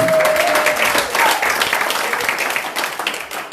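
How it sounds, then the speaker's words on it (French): A church congregation applauds in a sustained burst of loud, dense clapping with crowd cheers, tapering off slightly toward the end. "Est-ce qu'on peut acclamer pour la gloire de Dieu?"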